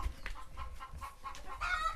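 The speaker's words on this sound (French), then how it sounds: "je pense que c'est une poule qui est en colère parce qu'il y a une poule qui occupe son pondoir" An angry hen clucks in a henhouse, in short repeated bursts at close range, irritated because another hen is occupying her nest box.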